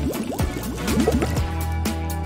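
Rainbow sand or liquid gurgles and pours into a small plastic bear mold in quick bubbling bursts, close and fairly loud, with no talking.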